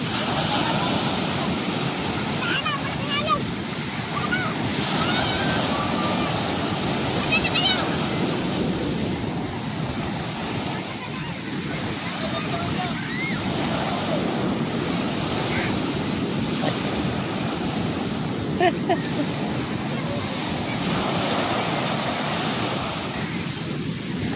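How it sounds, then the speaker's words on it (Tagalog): Surf along the coast of Infanta, Quezon, washing in as a steady, loud roar of breaking waves with heavy wind buffeting the microphone, continuous throughout with someone speaking over it. "Ito yung baybayin ng Infanta Quezon."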